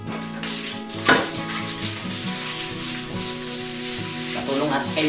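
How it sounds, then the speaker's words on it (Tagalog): Sandpaper rubbed steadily over bamboo for furniture-making, a continuous close scratchy rasp with one sharper stroke early on, beneath sustained background music. "Oras naman ngayon para gumamit ng liha mga kapanalig para kuminis yung kawayan."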